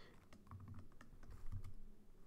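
Fingers tap on a computer keyboard in quick, irregular keystrokes, faint and close, with no one speaking.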